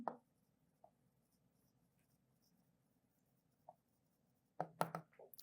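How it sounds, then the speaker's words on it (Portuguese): A marker pen writes on a classroom whiteboard, with a few faint isolated strokes over a quiet low hum and then a quick cluster of louder scratchy strokes near the end. "Muda de cor de caneta e escreve."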